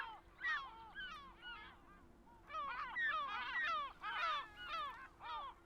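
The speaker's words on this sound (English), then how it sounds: "Birds!" Bird calls in the Japanese visual novel Hakuoki: a flock of honking, goose-like calls in overlapping bursts, loud and close, pausing briefly before a denser chorus, with no voices.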